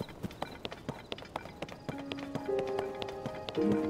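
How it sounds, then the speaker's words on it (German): Black horses gallop across Zelda: Tears of the Kingdom, their hooves clip-clopping in quick, uneven taps as tonal game music swells beneath them toward the end. "Ja, schön schwarze Pferde."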